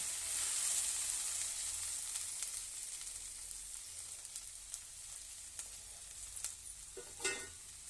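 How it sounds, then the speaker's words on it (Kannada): Okra frying in a pan for a Kannada-style okra kurma, giving a steady, dense sizzle with faint stirring scrapes and a brief clatter near the end; no one speaks. "ಇದು ಚೆನ್ನಾಗಿ ಫ್ರೈ ಆಗಿದೆ ಬೆಂಡೆಕಾಯಿ"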